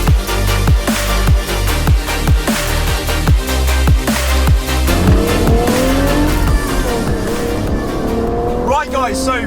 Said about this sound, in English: here we are now in the BMW Z4 on the road, and look, I mean, that engine just sounds so good